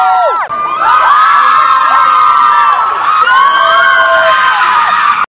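A crowd of fans on a London street cheers, whoops and shouts at high volume, a dense continuous roar of many voices close by that briefly dips and then surges on.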